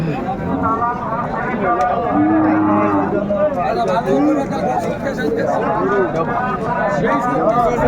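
Cattle lowing at a busy rural cattle market in Raniganj where cows with calves are sold, with a moo-like call amid a crowd of overlapping chatter and voices throughout.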